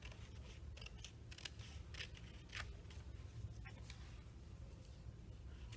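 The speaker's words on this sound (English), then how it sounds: "And cut the excess off," Scissors snip through excess paper or card on a 3D sailboat craft, a run of quick, close cuts in irregular rhythm, quiet and alone.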